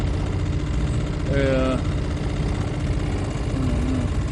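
A vehicle engine idles steadily in a forest parking spot near a slipway on the Rance, a low continuous rumble with a brief whistling tone partway through and no clear talk.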